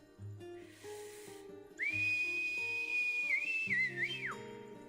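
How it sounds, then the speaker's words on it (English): A person whistles a long, steady, high note that wavers and bends near the end, a command to a stirring dog sled team in a game cutscene, heard clearly over soft background music with no talking. "you don't use words, you use different types of whistling"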